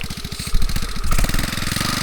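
A motorcycle engine rumbles close by with a rapid, pulsing mid-range beat, its pitch shifting slightly as the bikes pass, loud and without talk.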